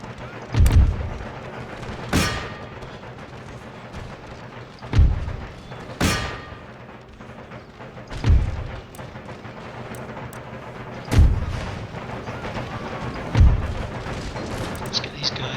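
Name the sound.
gunfire and artillery in Empire Total War video game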